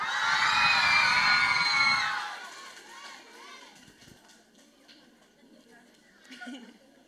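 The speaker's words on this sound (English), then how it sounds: "Are you going to cheer for her?" A school audience of children and staff cheers and whoops loudly as a teacher is called up to the stage, a dense burst of shouting that fades after two seconds into scattered chatter and laughter.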